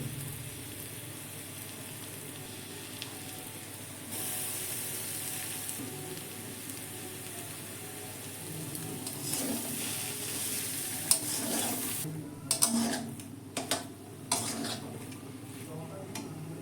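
Spatula stirring and scraping in a pan as chopped boiled egg goes into fried spices and potatoes, with a soft sizzle underneath and clinks of utensil on metal toward the end.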